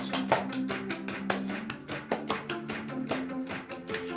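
Hands clap in a quick rhythmic pattern along with a children's song, a series of crisp, close claps over music.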